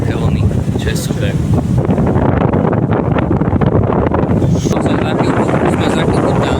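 A fast boat pounds through big waves, a loud continuous rush of water and engine roar heavily buffeted by wind on the microphone.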